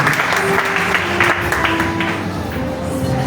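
A church congregation claps together during a worship service: a brief, close burst of applause with sustained tones or voices ringing through it.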